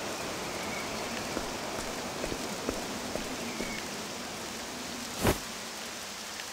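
Rain falling in the video game Octopath Traveler II, a steady hiss of rainfall with soft scattered drip taps and one brief louder burst near the end.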